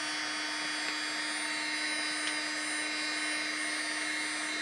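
PRULDE 380W mini heat gun blowing hot air while melting a plastic bottle, a steady fan-driven whine and hiss holding at moderate level throughout.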